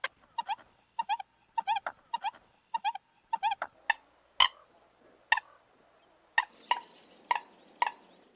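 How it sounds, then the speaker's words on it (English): American coot calling in a marsh, giving a rapid series of burry hiccups and sharp pops, about a dozen clear, close notes spaced roughly half a second apart, with a few short pauses between bursts. "The American coot makes a lot of kind of burry hiccups and pop noises."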